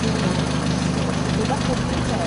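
An 11-horsepower engine in a 1951 front-wheel-drive car idles with a steady, low, rumbling drone throughout, heard close, while someone talks over it.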